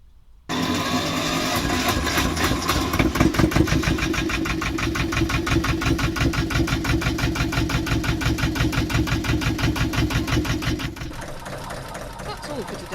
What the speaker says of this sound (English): Some boats just have electric starts instead